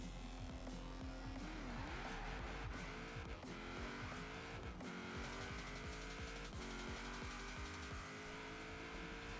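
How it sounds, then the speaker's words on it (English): A Mugen Honda Civic drag build launching down a quarter-mile strip in Forza Horizon, the engine revving hard through rising gear pulls with tire squeal, steady and loud with no voices. "there's a Honda Civic that can do 307 kilometers an hour down the quarter mile"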